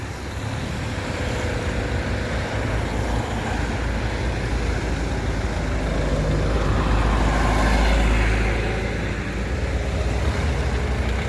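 Car slowly pulling out of a parallel parking spot during a driving test: a steady close engine hum and cabin rumble swelling slightly partway, with no speech.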